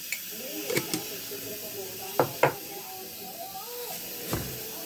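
Mustard seeds drop into hot oil in a pan and spit with sharp, brief crackles and hisses in a few separate bursts over a low steady background.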